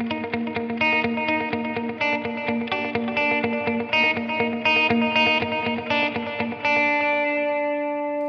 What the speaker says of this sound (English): And then just my quarter note delay.